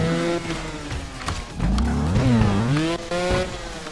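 A motorcycle engine in the Trials video game revs up and down loudly and continuously, its pitch rising and falling with throttle changes and no talking.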